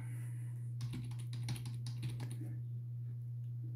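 Keys clatter on a computer keyboard in a quick burst while a form is filled out, a steady low hum running underneath and quiet afterward.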